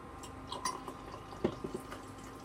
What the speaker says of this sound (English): Then put your water in.